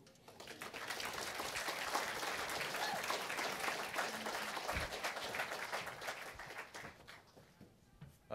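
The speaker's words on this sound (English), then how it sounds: "Starting us off right, one more round of applause." Audience applause at the break of a debate on sources for the resurrection, a dense sustained round of clapping that swells, holds, then tapers off toward the end.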